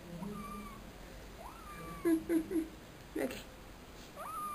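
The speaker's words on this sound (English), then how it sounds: "She's my new kitty." A new kitten meows in short bursts around the middle of the clip, fairly close, while a person speaks briefly nearby.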